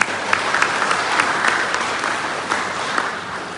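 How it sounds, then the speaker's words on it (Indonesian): A church congregation at a year-end worship service claps together in dense, loud, sustained applause, a steady wash of many hands with no talking over it. "Kita beri tepukan tangan dulu buat Tuhan kita ya."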